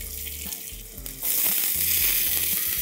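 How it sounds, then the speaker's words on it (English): Chopped ginger, green chilies, curry leaves and onions sautéing in vegetable oil: a sizzle that swells sharply to a loud, constant hiss about halfway through, with a steady low hum beneath and no voices. "Let's saute this for a couple of minutes."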